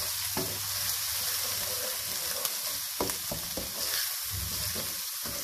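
Yogurt being stirred into whole green moong dal in a hot pan, a steady sizzle with scraping spoon strokes scattered through it, close and fairly loud, no talking.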